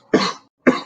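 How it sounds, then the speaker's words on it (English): A person gives two short, harsh coughs in quick succession, close and loud, in a quiet room. "Coughing."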